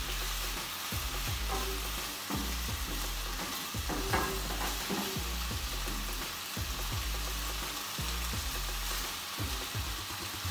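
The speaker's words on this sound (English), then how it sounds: "I had diced the bacon into strips, I'm trying to separate them as they're cooking" Diced bacon strips fry in a pan with a dense, continuous crackling sizzle while a utensil repeatedly pokes and separates them, producing steady rhythmic scraping taps close up throughout.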